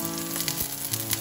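Stink beans and fresh shrimp stir-fry in red curry paste with fresh chillies and ginger, giving a steady close sizzle and crackle from the pan with no talking.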